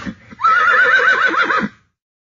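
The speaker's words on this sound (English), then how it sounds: "A horse makes a neigh sound." A single loud horse neigh, a shrill, wavering whinny lasting just over a second, close by with nothing else around it.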